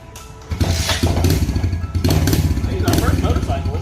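A Kawasaki KLX 110 dirt bike fires up on a dyno's rollers, a low idling engine with a loud throaty burst as it catches, then a steady chugging beat with some clatter, close by.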